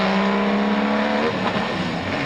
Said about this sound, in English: When you hear a 12-cylinder Ferrari coming down the road, you know it.